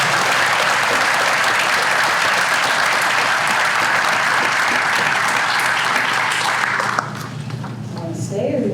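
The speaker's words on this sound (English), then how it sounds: "Let's give him a round of applause" A roomful of guests at an awards breakfast gives a lifetime achievement honoree a loud, dense ovation that runs for about seven seconds before thinning abruptly into a few scattered claps and room murmur.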